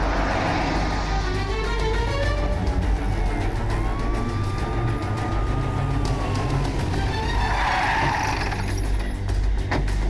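A car in a police chase accelerates hard to overtake, its engine droning steadily and close throughout, with a siren wailing in the background.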